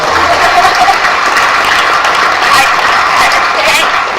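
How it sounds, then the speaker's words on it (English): An audience at a Denver candidate forum applauds loudly and steadily, a close, continuous spread of clapping that carries evenly for about four seconds. "Round of applause"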